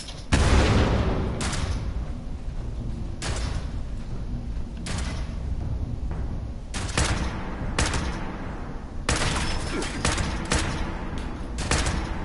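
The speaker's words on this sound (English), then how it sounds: "so he had a grenade launcher" Grenade launcher fire in Fallout 76 lands as a series of heavy, booming blasts, roughly a dozen irregularly spaced shots, each a loud, close burst over a continuous rumbling background.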